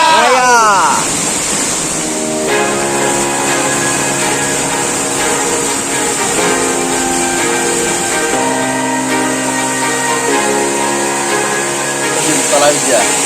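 A waterfall at Maruyan, Indonesia, pours out a steady, loud rushing roar beneath voices and tonal sounds.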